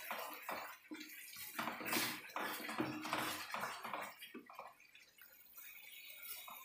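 Sweet potato halwa being stirred with ghee in a pan, a steady scraping and clinking of a spoon against metal, close and moderately quiet, with no talk.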